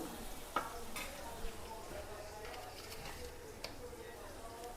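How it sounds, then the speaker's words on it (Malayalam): Chopped onion, garlic and green chili sauté in a pan for a jackfruit and prawn dish, giving a soft steady sizzle close by with a few light clicks of a stirring utensil. "ഞാൻ ഉള്ളിയും വെളുത്തുള്ളിയും പച്ചമുളകും ഒക്കെ കട്ട് ചെയ്തിട്ട് വാട്ടണയാണ്"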